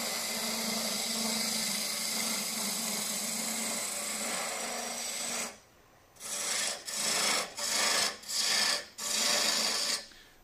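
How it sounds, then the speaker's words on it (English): A wood lathe turns a long stem goblet, giving a loud, steady broadband rasping hiss of a tool cutting spinning wood for several seconds, then stopping and returning in a series of short bursts. "let me just stop the lathe"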